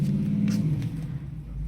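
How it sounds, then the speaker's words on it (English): Deep engine rumble from a Porsche 981 Cayman S with a modified exhaust, heard from inside the cabin, steady and close, with a few faint sharp exhaust crackles and pops scattered across the top. "The crackles and pops are much more noticeable even inside the cabin."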